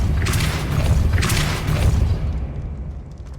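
Repeated Depulso spell casts in Hogwarts Legacy: two heavy, thudding magical blasts land about a second apart, each a loud boom with a hissy rush before the rumble thins out.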